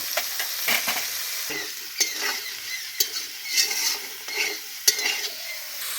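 Spices being stirred in a hot frying pan for a savoury Bengali pitha filling, a steady sizzle with scraping strokes and sharp spoon clicks against the pan, close and alone with no talk.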